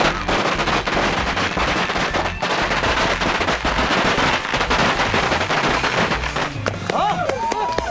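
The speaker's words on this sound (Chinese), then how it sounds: "鸣放鞭炮" A string of firecrackers goes off at a ground-breaking ceremony for a new house, a loud, close, rapid crackling barrage that runs almost continuously, with voices calling out toward the end.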